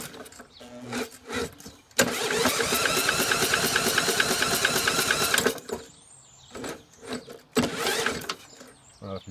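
A Snapper lawn mower engine is cranked by its electric starter, giving a long steady whirring churn and then several shorter cranking bursts, loud and close with brief pauses between attempts.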